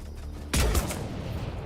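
A single loud burst of gunfire from a weapon in the video game Mass Effect 3, a sharp crack followed by a few quick echoing reports, against a low steady background hum, with no talk.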